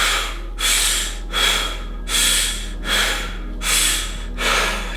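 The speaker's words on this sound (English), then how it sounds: "we'll start with 4 short breaths" Six short, forceful breaths during a breathwork session, evenly spaced about every 0.7 seconds, each a loud breathy rush alone with no talking.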